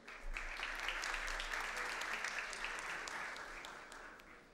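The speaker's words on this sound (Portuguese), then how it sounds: "Aplausos." Steady applause from an audience at a formal youth parliament opening session, a moderately distant, even patter of many hands clapping throughout, swelling early and tapering gently near the end.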